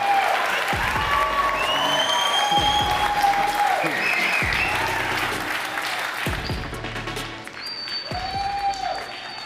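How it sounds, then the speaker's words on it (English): Loud, sustained audience applause fills the room for the first-place winning team, Row Patrol, at a live San Francisco tech event, with cheering voices and whoops rising over the steady clapping. "Please, applause for Row Patrol."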